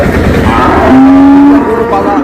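A cow lets out a single loud, drawn-out moo at a Raniganj cattle market in Dinajpur, close by over background crowd noise.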